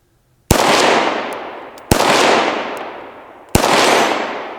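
Three loud, sharp pistol shots ring out about one and a half seconds apart, each followed by a long fading echo, aimed at a red steel plate around 3/8 inch thick; the faint clang of a hit is hard to pick out.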